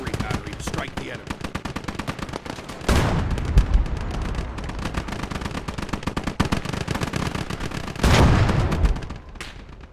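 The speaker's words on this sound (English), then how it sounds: "But we can use a nearby artillery battery to strike the enemy." An artillery battery strike in the Gates of Hell war game lands as two heavy booming impacts amid continuous rapid machine-gun fire, the shelling loud and close over the chattering small-arms barrage.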